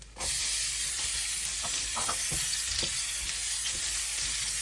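Onion hitting a frying pan with garlic already sizzling in oil gives off a steady close hiss of frying, with faint stirring clicks and scrapes and no voices.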